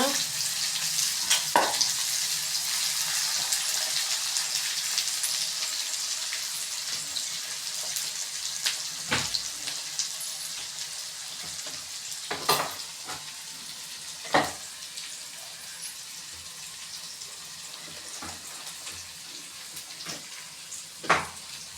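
Chopped onions sauté in hot oil with mustard seeds for a broad beans poriyal, giving a continuous soft sizzle with occasional sharp pops and stirring clinks.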